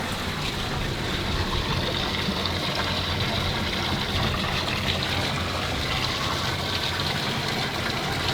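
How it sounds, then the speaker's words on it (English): Water from a pump pours steadily into a temporary tank, a continuous loud rushing wash with a low motor hum running beneath it throughout. "That's a lot of water flow."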